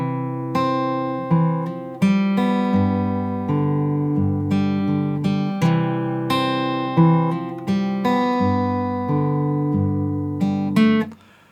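An acoustic guitar in standard tuning plays the opening line of a song fingerstyle, with clear plucked notes and chords ringing in a steady rhythm, alone and close.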